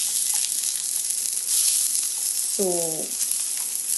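Chopped onions frying in a stir fry, a loud, steady broadband sizzle close up that runs the whole time, with one brief spoken word partway through.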